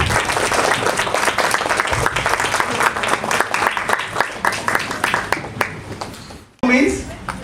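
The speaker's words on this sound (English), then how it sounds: "Can we have a round of applause for Manavi" An audience applauds Manavi in a sustained, dense round of clapping that fades and stops near the end, when a voice begins speaking.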